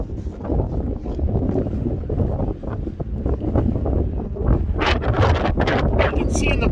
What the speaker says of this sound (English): Whoa, there comes some more winds.